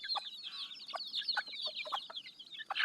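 A village hen keeps close to her chicks, and their shrill, constant peeping runs throughout, broken by short, low clucks at close range with no talk.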